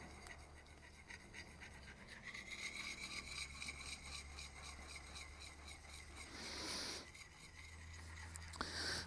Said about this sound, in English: I'll hold it freehand and I will move the stone in a circular motion.